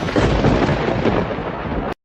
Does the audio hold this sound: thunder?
yes